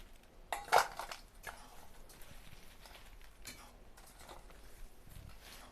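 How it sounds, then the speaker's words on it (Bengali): Dried tamarind being put into a bowl, with a sharp clink near the start followed by quieter scattered taps and rustles. "এবার তেঁতুলগুলো আমি বাটিতে তুলে নেব।"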